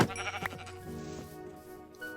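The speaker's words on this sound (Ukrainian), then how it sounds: "Ще одну вівцю знайшов." Minecraft sheep bleating close by, a few wavering bleats in quick succession over faint game ambience, with no talk.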